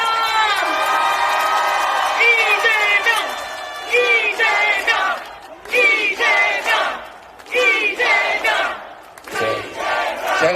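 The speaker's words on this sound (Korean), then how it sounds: "이재명 대표님께 다시 한번 큰 박수" A political rally crowd chants and cheers in rhythmic, loud bursts of many voices, with shouted phrases repeated in waves and short pauses between them.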